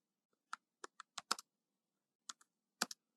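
Someone types code on a computer keyboard in short bursts of crisp, close key clicks, with a few single taps and a pause in between, in a quiet room with no talking.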